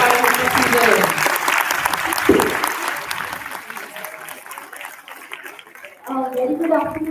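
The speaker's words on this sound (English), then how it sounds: "Please give a big round of applause." An audience at a physiology intercollegiate quiz event gives a warm burst of applause for an arriving speaker, with clapping tapering off and a voice speaking over the room before another round of clapping near the end.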